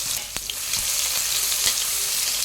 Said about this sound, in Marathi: बघा, आता तेल छान गरम झालेलं आहे, यामध्ये मी अर्धा चमचा जिरे घालत आहे,